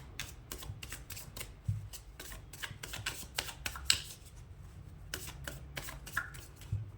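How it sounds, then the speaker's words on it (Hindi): Tarot cards shuffled by hand in a rapid riffling patter of crisp, close flicks and soft slaps, continuing steadily without talk. "यहाँ पे कार्ड शफल हो रहे हैं"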